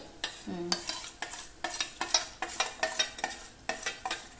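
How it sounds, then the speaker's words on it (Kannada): Cooked lentils being stirred into a pan with a utensil, giving a steady series of wet scraping strokes against the pan bottom, repeated roughly every half second with no one speaking. "ಈಗ ಬೇಳೆ ಬೇಯಿಸಿ ಇಟ್ಟುಕೊಂಡದನ್ನು ಅದಕ್ಕೆ ಸೇರಿಸ್ಕೊಳ್ತಾ ಇದ್ದೇನೆ"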